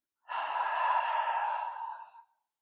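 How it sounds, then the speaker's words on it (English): A single deep, slow breath of about two seconds is heard up close as a soft airy exhale, fading gently away into silence. "We'll take one final deep breath together. Inhale and exhale."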